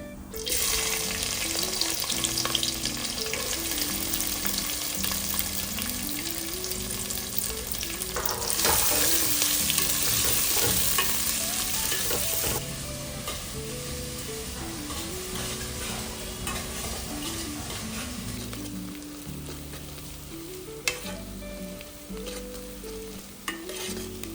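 Chopped onions frying in hot oil with sugar, a bay leaf and whole cumin for a Bengali mutton and potato curry, giving a steady close sizzle with repeated stirring and scraping and a faint tonal hum underneath, and no talk.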